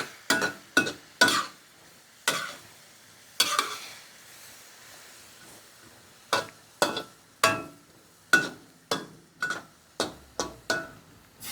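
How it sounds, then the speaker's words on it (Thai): Bean sprouts and pork belly stir-fried in a pan, with repeated sharp scraping clacks of a utensil against the pan in an irregular rhythm over a soft background sizzle. "แล้วก็ผัดจนถั่วงอกสุกนะคะ"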